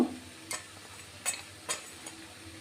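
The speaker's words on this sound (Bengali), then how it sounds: "তারপরে এটা মশলার সাথে কষতে দেবেন মিডিয়াম কি লো ফ্লেমে।" Potatoes sautéing with spices in a pan on medium-low heat for achari aloo: a faint continuous sizzle with a few separate stirring scrapes spaced about half a second apart, close and quiet, with no voices.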